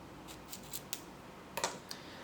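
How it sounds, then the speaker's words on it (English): Knife scoring shallowly into an onion on a board: a few soft, crisp clicks and light slicing ticks spread over a couple of seconds, close by and quiet, with no talking. "you can cut a little bit into the onion"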